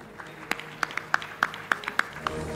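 Sparse, scattered handclaps from an audience at the award ceremony of a university debate championship final, a few distinct claps spaced across a quiet hall rather than full applause.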